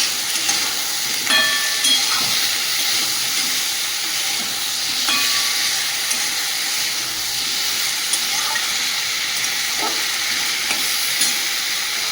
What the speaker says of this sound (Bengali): কষিয়ে নেব।